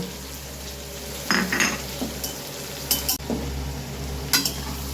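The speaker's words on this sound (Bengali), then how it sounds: "ভালো করে ভেজে নিচ্ছি।" Dry chili powder, turmeric, salt and sugar frying in a pan under a soft steady sizzle, with several clattering scrapes of a stirring utensil against the pan, up close.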